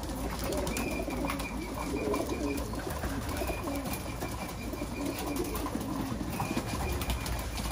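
Racing pigeons return from a 30 km training flight, cooing repeatedly and flapping their wings close by over a dense background of outdoor noise.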